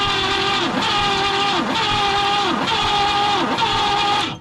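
A 1960 Pontiac Ventura engine being cranked over after sitting 24 years, a loud steady starter drone with a rhythmic rise and dip roughly once per second, continuous and close.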